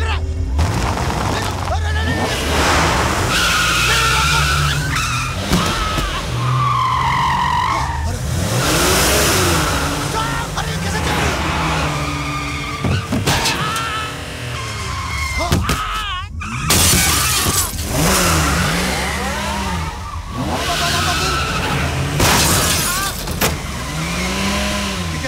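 A car in a Hindi comedy film starts up and lurches along, its engine revving and straining amid bumps and crashes, with excited people talking over it throughout.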